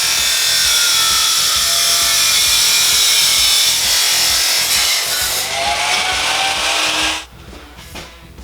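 A saw cuts through an original Ducati aluminum muffler housing tube, a loud, steady, harsh grinding rasp that runs for about seven seconds before stopping abruptly, leaving a few faint clatters.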